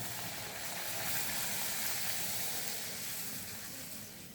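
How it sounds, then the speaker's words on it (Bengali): Luchi, a puffed Bengali fried flatbread, sizzles in hot oil, a steady dense frying hiss that holds for the whole stretch with no talking. "এবার আমি একটা একটা করে লুচি ভেজে নেব।"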